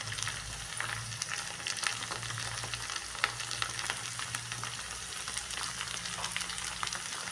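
Okra frying in a pan with a little salt, a steady close crackling sizzle with light stirring scrapes running throughout, no voices.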